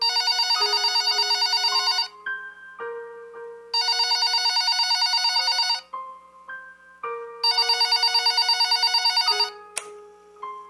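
A telephone ringtone plays in three loud, bright bursts of rapid warbling tone, separated by short melodic chime phrases, with no one speaking.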